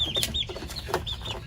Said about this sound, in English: The bantams are going right up the ramp.